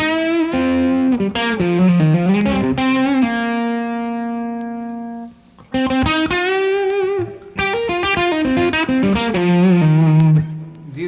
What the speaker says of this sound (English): same kind of instrument, same kind of guitar, but with the blue chip